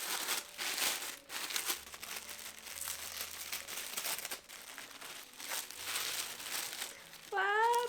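Paper or plastic packaging around a new 550-page book being torn open and crinkled, a steady close rustling and ripping that runs throughout, with a brief burst of voice near the end.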